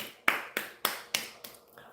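Six sharp claps in quick succession, crisp and close, each decaying fast and getting slightly softer toward the end, with no talking.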